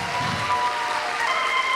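An outdoor crowd at a Poor People's Campaign rally in New Hampshire claps for the organizers and marshals. Steady, dense applause runs through the whole short stretch.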